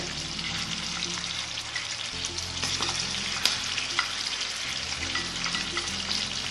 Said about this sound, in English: Oh, I love the smell of garlic cooking.